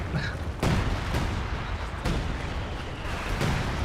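Artillery in the video game Company of Heroes 2 fires in a few dull booms over a rumbling battle background, moderately loud and somewhat distant.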